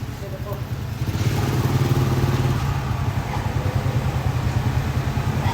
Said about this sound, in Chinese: 我这个摩托车还好吧？ 我买了几年了，这个摩托车